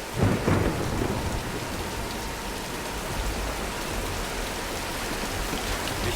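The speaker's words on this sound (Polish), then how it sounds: "przeczekajmy burzę!" A thunderstorm rages in Tomb Raider: a loud thunder crack opens, then heavy rain keeps a steady dense hiss and low rumble throughout, with no talk.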